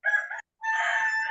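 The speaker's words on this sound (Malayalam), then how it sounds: "കോഴി എന്തോ പറയുന്നുണ്ട്, എന്താ എനിക്കറിയില്ല" Rooster crowing twice up close, a short call then a brief gap before a longer, sustained crow.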